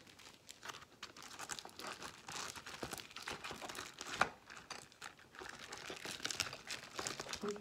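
Crinkling and rustling of a small bag as paint kit items such as an eraser, paint, pen, pencil and paintbrush are put inside, a continuous close crumpling with one sharper rattle midway.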